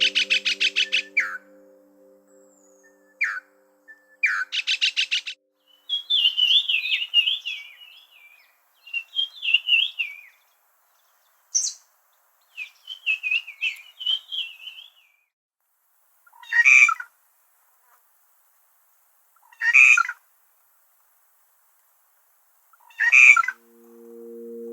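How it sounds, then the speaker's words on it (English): Wild birds call in a forest habitat, with repeated chirps, trills and short whistled notes in separate bursts, fairly clear against quiet background. "keep on listening to the bird calls that are happening around you"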